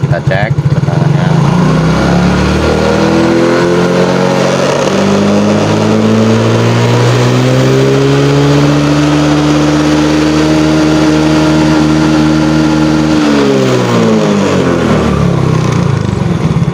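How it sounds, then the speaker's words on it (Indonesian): Motorcycle engine with a voltage regulator (kiprok) being revved to check charging voltage, rising steadily in pitch from idle to high RPM over several seconds, then dropping back; loud and continuous with talking underneath. "Coba kita angkat gas untuk mencari RPM nya, kita cek tegangannya."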